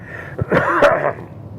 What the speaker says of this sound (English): Yeah, a little cough there.